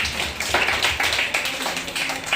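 An audience claps together at a children's day stage program at Tyagaraya Gana Sabha, a dense, steady patter of many hands filling the hall for a couple of seconds.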